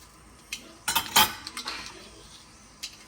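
Mustard seeds dropped into hot oil in a pan for an okra curry give a few sharp clinks and rattles of a metal spoon against the pan, then a quiet faint sizzle, with no talk.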